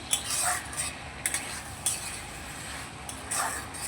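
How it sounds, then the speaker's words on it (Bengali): Onions fry in oil with a soft, steady sizzle, broken by a few metal clinks and scrapes as a utensil stirs the pan. "পেঁয়াজটা যখন ভাজা হচ্ছে"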